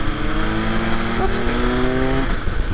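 A 2024 MV Agusta Enduro Veloce adventure motorcycle accelerates, its engine note rising steadily and close by for a few seconds before easing off under light wind noise.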